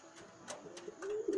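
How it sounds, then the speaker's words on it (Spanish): A pigeon coos softly at its nest box in a short series of low, throaty calls that grow slightly louder toward the end, with faint background noise and no talking. "filmar la paloma por el cajón para adentro"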